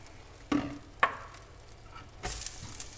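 Chopped onions go into hot oil in a pan while a tofu scramble is being made. Two sharp utensil clacks come first, then a sudden hiss rises as the onions start to sizzle, faint and close.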